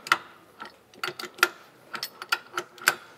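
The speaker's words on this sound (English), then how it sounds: "So we'll just thread away until all the threads on the drive shaft disappear" Ratcheting clicks and metallic ticks of a coupling nut being threaded onto a BMW drive shaft during service, several separate clicks spread unevenly, close and fairly quiet with no talking.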